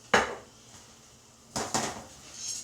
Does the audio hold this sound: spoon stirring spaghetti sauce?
yes